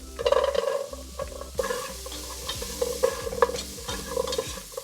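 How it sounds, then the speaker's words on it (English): Carrots and seasonings sauté for lentil soup in a hot pan with a steady, close sizzle. A spoon stirs the pan with repeated scraping strokes throughout, and no voice is heard. "We'll let that saute for 2 to 3 minutes just until the carrots get a little bit soft"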